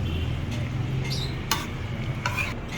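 Onions stirred in a frying pan at a home cooking session, giving a steady low sizzle with a few scraping stir strokes of a utensil against the pan.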